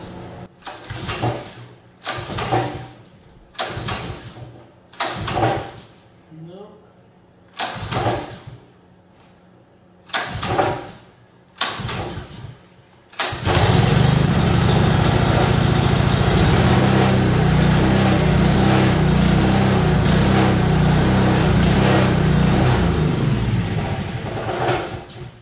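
Small Honda gas engine on a go-kart built from a moving dolly, several loud pull-cord rattles in rapid succession before it fires and settles into a steady, close, buzzing run that continues to the end.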